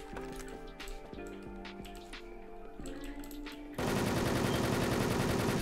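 Gunfire in the online shooter Wolfteam: steady rapid shots with a tonal, ringing quality, followed by a sudden loud, dense burst of noise, close and continuous, with no talking.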